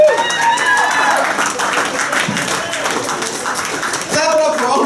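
Audience clapping and cheering at a comedy roast, a dense wash of applause with crowd noise and voices over it, loud and sustained throughout.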